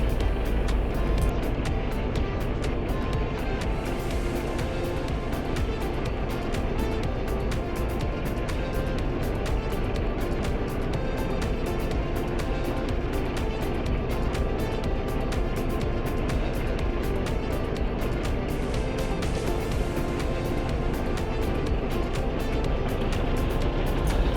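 Robinson R22 helicopter engine in Microsoft Flight Simulator, a dense continuous mechanical drone and rumble holding steady and loud throughout with no pauses.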